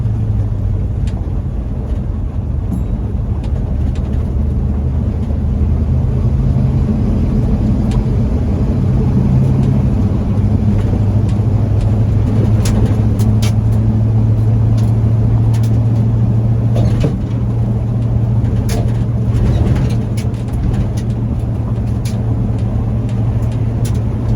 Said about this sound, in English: Stop in second gear, or a slow roll in second gear anyway.